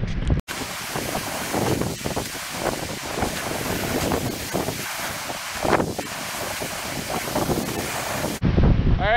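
Strong storm wind buffeting a microphone outdoors while a tarp is put up, a loud continuous roar with gusting surges throughout.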